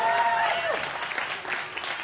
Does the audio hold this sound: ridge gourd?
no